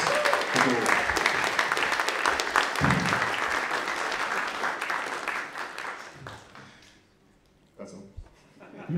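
An audience at a film screening Q&A for the Edinburgh 48 Hour Film Project breaks into lively, dense applause that carries for about six seconds, then quickly dies away into a near-quiet room with brief talking afterward.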